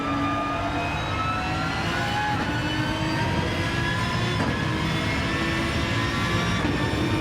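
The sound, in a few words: Aston Martin race car engine on the straight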